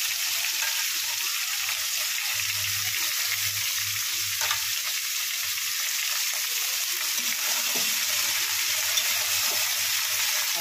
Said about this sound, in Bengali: দুধ, মূলো একসাথে ভালো করে একদম কষে নেব